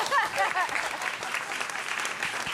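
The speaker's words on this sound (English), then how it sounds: "This is where everyone claps." An audience claps steadily through a United Way campaign kickoff event, a dense, moderately distant wash of hands with a few voices briefly audible near the start.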